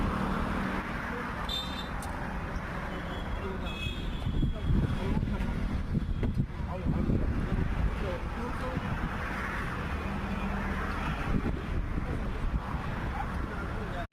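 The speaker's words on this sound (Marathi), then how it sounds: "7 HP चेन कल्टिवेटर कोळपणी यंत्र" A 7 HP chain cultivator weeding machine runs steadily in a field, its small engine giving a continuous rough drone throughout, with a person talking over it and wind noise.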